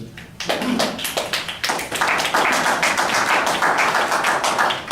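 An audience at a public forum on a multi-purpose arena claps loudly. The applause starts with a few scattered claps, then builds into dense, steady clapping that carries on to the end with no speech over it.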